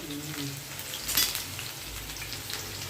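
Finely chopped onions with a pinch of garam masala sautéing in a pan, a low, steady sizzle with a brief utensil scrape midway, no talking.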